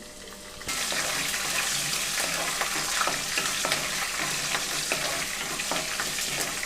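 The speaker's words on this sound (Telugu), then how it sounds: "ఇక్కడ పచ్చిమిరపకాయలు కూడా కొంచెం దోరగా వేగనిస్తున్నాను" Green and dried red chillies fry in oil with a loud, dense sizzle that bursts in suddenly after a quiet start and holds steady, crackling up close.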